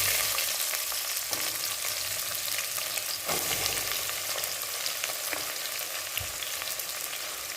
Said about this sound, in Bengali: এবারে এতে আমি তুলে দেবো কেটে রাখা পেঁয়াজগুলো।